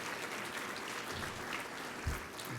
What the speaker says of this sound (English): you can give a round of applause for that.